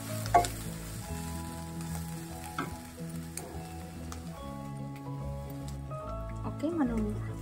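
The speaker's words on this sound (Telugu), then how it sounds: "కొంచెం డీప్ ఫ్రై అయింది బాగా. అలాగే ఇంకొంచెం డీప్ ఫ్రై అవనిచ్చి" Capsicum curry deep-fries in oil with a continuous close sizzle and bubbling, while a person talks over it throughout.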